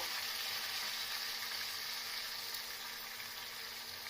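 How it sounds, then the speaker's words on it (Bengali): Onion paste with garlic and ginger paste frying in a pan, a steady dense sizzle that holds level and close throughout without any talk. "এরপর এর মধ্যে পেঁয়াজ বাটাটা দিয়ে দেব তারপর রসুন আর আদার পেস্ট কিছুটা পরিমাণ দিয়ে দেব"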